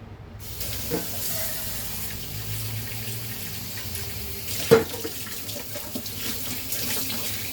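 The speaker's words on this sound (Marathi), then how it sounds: "त्यांच्यात आपण पाणी टाकूया" Water pours steadily into a pot of fish curry for several seconds, with a brief clunk partway through and no talking.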